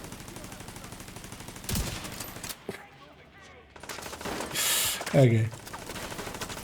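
Bursts of turret gunfire in a video game, loud and rattling, broken by a short quieter lull before more rapid shots resume. A voice speaks briefly during the firing.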